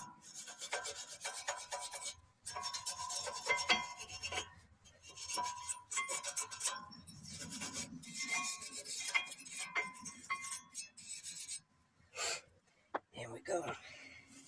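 A wire brush scrubs a 2021 BMW 430i xDrive rear brake caliper bracket in quick, raspy bursts of scraping strokes separated by short pauses, close and fairly quiet.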